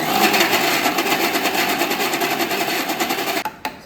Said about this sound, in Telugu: సో ఇప్పుడు మిక్సీ అయితే పట్టుకుందాం.